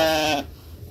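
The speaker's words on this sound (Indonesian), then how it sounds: "Ayo makan yang banyak, Bing, kambing." A goat being fed lets out one loud, close bleat lasting under half a second, followed by quiet background.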